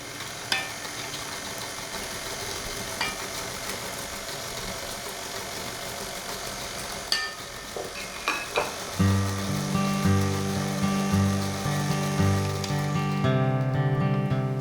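An electric mixer beats butter, sugar, four eggs and vanilla into a creamy biscotti batter. A noisy, clattering whir with scattered knocks settles near the end into a steadier, humming motor drone.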